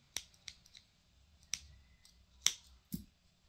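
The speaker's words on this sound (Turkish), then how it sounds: "bu krem ipimin ucunu keseceğim" Scissors snip the end of cream yarn while knitting a seamless two-needle slipper, with four or five sharp, close metallic clicks spaced irregularly in a quiet room.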